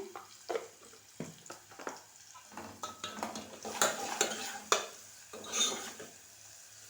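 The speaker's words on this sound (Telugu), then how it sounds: "మిరపకాయలు మంచిగా వేగిపోయినాయి నెక్స్ట్ కొంచెం ఉప్పు వేస్తున్నా" Green chilies fry and are stirred in a metal pan, a steady sizzle running under repeated scrapes and clinks of a spoon against the pan, close and fairly loud.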